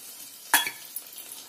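Oil splashing into a hot pan during a spicy chicken fry gives a short burst of sizzle and clatter, followed by a soft, steady crackle at moderate loudness with no voices.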